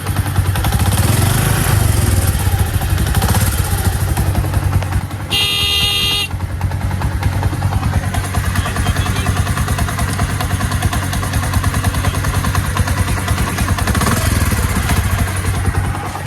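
A newly bought motorcycle runs after starting, its engine chugging loudly and evenly up close for the whole stretch, broken briefly by a short horn-like tone midway, with no talking.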